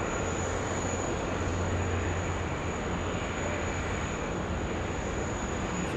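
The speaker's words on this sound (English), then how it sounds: "track this Dash 8 heading out to 16 left" A Dash 8 turboprop taxis out toward runway 16 left at Sydney Airport, a steady, continuous engine drone with a faint high whine holding level throughout, no voices over it.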